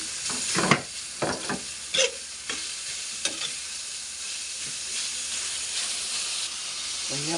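Ground meat and onion sautéing in a pan, with a steady broadband sizzle running throughout and louder scraping stir strokes breaking through near the start and again around the middle; no talking.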